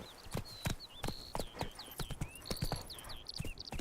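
A horse's hooves clip-clop at a gallop in The Witcher 3, a steady rapid rhythm close by, with short synthetic whistling game tones over it.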